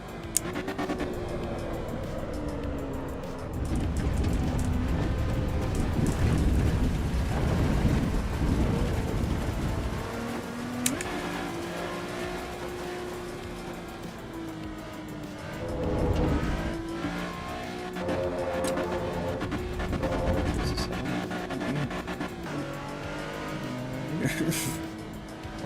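A Maserati race car engine in a GT racing video game revs and drones steadily, rising and falling through gear changes, with a long first gear and occasional tire noise, under a player's speech.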